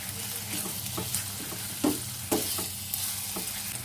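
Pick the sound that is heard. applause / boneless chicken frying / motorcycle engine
boneless chicken frying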